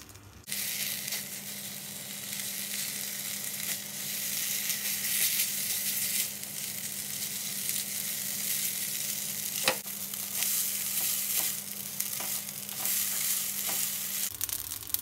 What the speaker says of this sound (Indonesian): Sekarang saya aduk lagi.